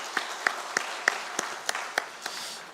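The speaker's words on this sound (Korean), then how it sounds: "다시 한번 우리 하나님께 영광 박수 올려드리겠습니다" A church congregation claps in slow unison, roughly nine distinct, evenly spaced beats ringing in a reverberant hall, with quiet gaps between them and no talking.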